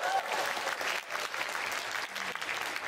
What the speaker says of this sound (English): You want to give them a round of applause